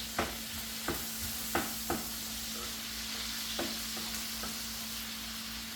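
Bacon sizzling in a pan with green chili, for baked beans: a steady, fairly soft frying hiss broken by a few sharp stirring clicks and scrapes, with no talking.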